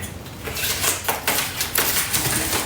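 A blade slices open a Big Brother cardboard box, a close scraping, slitting sound with several sharp strokes and tape rips over a steady background hiss. There is no talk.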